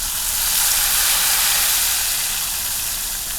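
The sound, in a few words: buttermilk spice mix poured into hot tempering, sizzling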